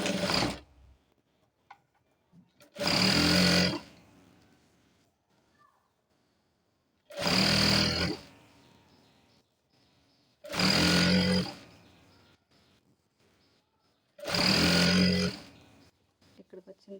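An electric sewing machine stitches a folded petticoat hem in four loud bursts of about a second each, separated by quiet pauses with faint handling noise.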